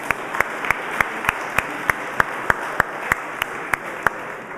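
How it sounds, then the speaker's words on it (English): Audience applause at a community program event at HP Fieldhouse, with sharp, evenly spaced claps standing out in a steady rhythm over a constant wash of crowd noise. "Let's give everybody a round of applause,"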